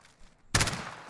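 Gunfire in the Warzone video game during a sprint, prone and jump movement: a quiet stretch, then a sudden loud burst of rapid shots that carries on to the end.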